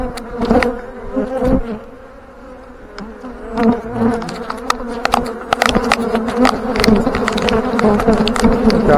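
Honey bees buzz densely around an open ten-frame Langstroth hive, a close, continuous drone with individual bees whining loudly past, broken by faint handling knocks.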